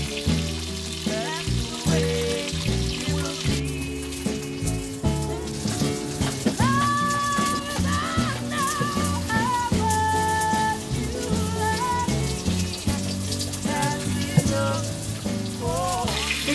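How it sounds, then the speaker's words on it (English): Steady frying sizzle of chicken skin in a pot on a small boat continues throughout, crackling softly beneath music with a clear melody. "The chicken is bubbling away happily."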